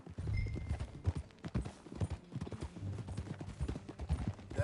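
Horse hooves clip-clop at a steady trot in the Red Dead Redemption 2 video game, a close, continuous rhythm of low thuds running throughout with faint background ambience.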